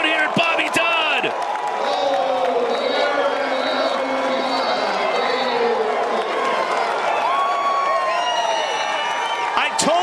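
Crowd cheering and roaring at a Maryland vs Notre Dame NCAA men's lacrosse game at Bobby Dodd, a steady wash of fan noise with whoops and shouts swelling throughout.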